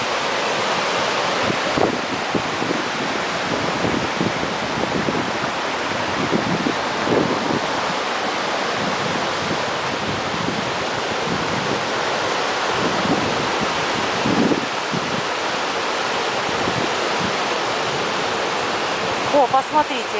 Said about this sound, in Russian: Я сама себя даже не слышу от шума реки.